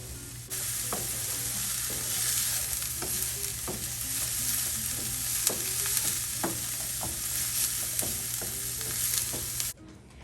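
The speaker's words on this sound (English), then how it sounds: "now I add the onions into what's left of the oil in the frying pan" Onions sizzle steadily in hot oil in a pan, with occasional scraping and tapping of a utensil stirring them; no voices.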